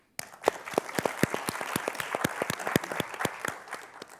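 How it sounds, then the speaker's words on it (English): Audience applause for a panelist at a Hispanic leadership summit in Washington, D.C.: a moderate crowd clapping steadily with sharp, distinct individual claps, alone and without talk. "A round of applause for Estuardo."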